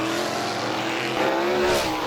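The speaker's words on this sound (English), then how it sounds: "stand next to the track to hear the sound of these vehicles" Race cars speed around a racetrack with a loud, continuous engine roar. Pitch shifts rise and fall as cars pass close by, with a brief surge near the end.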